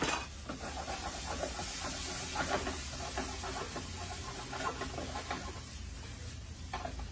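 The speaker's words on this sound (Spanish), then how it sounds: "Entonces voy a agregar en una manteca muy caliente, y voy a dejar que empiece este sofrito a sazonarse." Sofrito for a Tabasco dish frying in very hot lard, a steady sizzling hiss with soft crackles and stirring scrapes, close and continuous.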